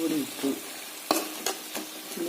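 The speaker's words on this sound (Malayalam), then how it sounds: "തേങ്ങ ഒന്ന് മൂപ്പിച്ചിട്ട് ചിക്കൻ ഇട്ട് വഴറ്റാം" Chicken pieces frying and being stirred in roasted grated coconut in a pan, a steady sizzle broken by several sharp scraping stirs of a spoon against the pan, close and with no talking.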